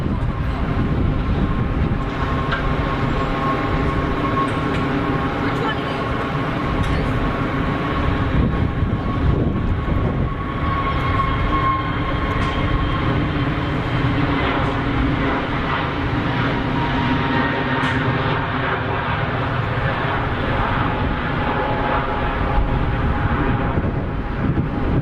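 A Pegasus airliner on its takeoff roll at Geneva Airport, a sustained loud jet roar with broad rumbling noise and faint whining tones, steady for the whole stretch and heard from nearby.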